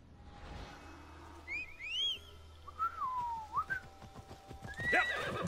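A horse in Assassin's Creed Odyssey whinnies with rising and falling tonal calls, alongside whistles and light clip-clopping hooves over a low rumbling game ambience.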